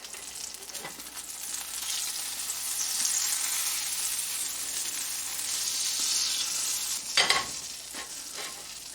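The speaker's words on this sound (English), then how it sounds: "We want to get a nice sizzle of the butter." Butter sizzling steadily in an unseasoned carbon steel pan, a dense close crackling hiss with a brief louder spatter near the end, no talking.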